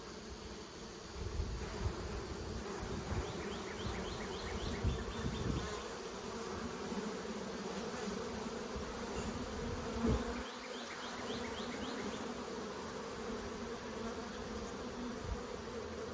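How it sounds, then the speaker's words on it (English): Honey bees buzz loudly and constantly up close as they are shaken off a hive frame, a thick droning swarm sound with occasional soft bumps and rustles, no speech. "I'm going to shake these bees off."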